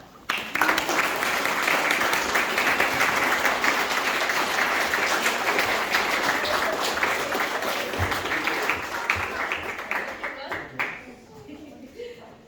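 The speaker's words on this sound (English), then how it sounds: "please give Freddie and Louie and Naomi a big clap" An audience at a graduation ceremony applauds in one dense, continuous burst of clapping for about ten seconds, then it thins and fades out, with a few voices mixed in.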